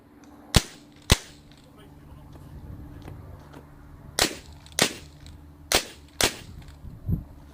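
Sharp, crisp minirifle shots ring out one at a time, about seven in irregular pairs and singles, at a practical shooting competition while a commentator talks in the background.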